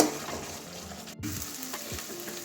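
Spiced masala and potatoes fry in a pan, a steady close sizzle with occasional stirring scrapes and clinks of a utensil against the pan.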